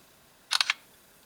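One crisp shutter click from an LG G2 smartphone camera, a short stuttered mechanical-style snap heard up close, isolated in near silence.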